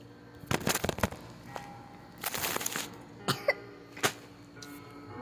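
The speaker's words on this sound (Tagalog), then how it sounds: "May ubo ako." Several sharp coughs from a person nearby, spaced irregularly across a few seconds in a quiet indoor room, each burst loud and brief with short pauses between them.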